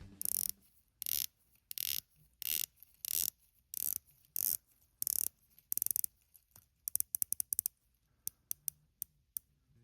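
Polished coin edge bezel on a Super Sea Wolf homage dive watch turned by hand, a close series of crisp ratcheting clicks, first in evenly spaced bursts, then quicker single clicks.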